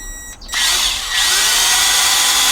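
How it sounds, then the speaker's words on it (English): A power drill bores out a rivet on a Corgi 806 Lunar Bug toy under restoration: a brief whine at first, then a loud, sustained grinding drone as the bit bites into the metal, close up and alone. "I've already put like a little hole in the middle of the rivet so I don't slip with the drill."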